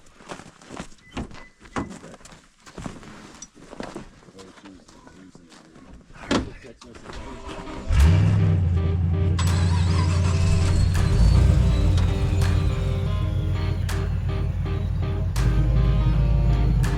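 A Toyota stuck in a snow storm cranks briefly and its engine catches, settling into a loud, steady warm-up idle close by; door thunks and scattered sounds come before it.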